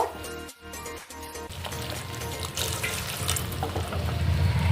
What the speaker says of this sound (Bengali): আবারও একটু মিক্সি ধোয়া জল দিয়ে দেব।